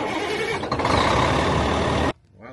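A big Kenworth T8 dump truck with a C12 engine rumbles loudly and steadily up close, its deep roar cutting off abruptly near the end to a quiet background.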